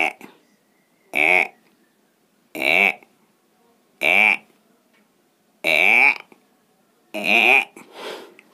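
A human voice imitates a frog being seized by a snake, producing six separate loud, strained croaking cries at roughly one-second gaps, close to the microphone, with silence between them.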